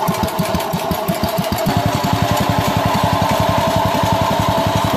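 Tractor with a push-button start, running after being fired up, giving a steady, loud, rapid chugging engine pulse that holds an even rhythm throughout with no talking.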